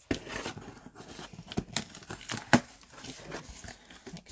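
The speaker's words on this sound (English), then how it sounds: "My little scissors." Small scissors snip through packaging while a Stampin' Up order is unboxed, a few sharp close cuts mixed with crinkling of the wrapping.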